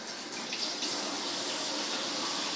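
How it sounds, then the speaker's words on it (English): Tap water runs steadily into a sink while hands are washed for cooking, a close, continuous hissing splash with slight shifts as the hands move through the stream, and no voices. "While I'm washing my hands, you might want to get your station set up"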